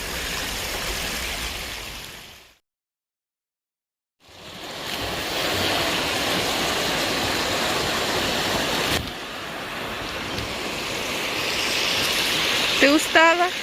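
Rainwater rushes through a spring forest after days of rain, a steady broad hiss of flowing water that drops out briefly partway through, then returns as an even wash with a few faint chirps at the end.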